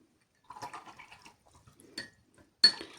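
Quiet water sounds: brief splashes and trickles, a light clink, then a sharper splash as paint-rinsing water is poured or swirled in a small container during painting.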